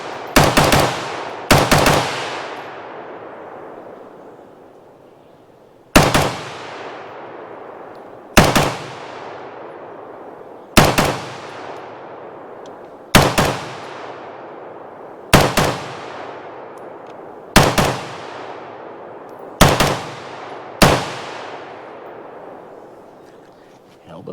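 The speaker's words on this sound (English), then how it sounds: "3-round burst." Colt M16A2 rifle firing three-round bursts, about eight loud, sharp bursts spaced a few seconds apart, each ringing out with a decaying echo.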